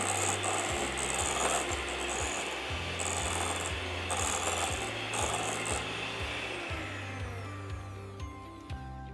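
An electric mixer creams butter and sugar for a vanilla cake batter. The motor whirs steadily at close range with a rhythmic ticking churn that runs throughout and shifts slightly near the end, with no talk.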